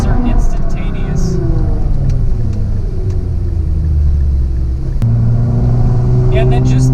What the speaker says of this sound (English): the downshifts on this are instantaneous